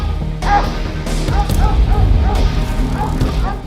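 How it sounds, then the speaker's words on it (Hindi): A dog barks repeatedly at a close, steady pace, with a few yipping, whimpering notes, over a constant low background hum. "कुत्ता भौंक रहा है अपना, वहाँ देखे?"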